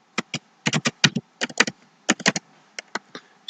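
Someone types spreadsheet formulas on a computer keyboard, producing quick close clicky keystrokes in irregular bursts separated by short pauses, with no talking.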